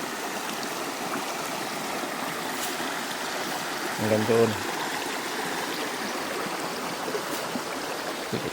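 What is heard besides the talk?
river stream water flowing, Camarines Sur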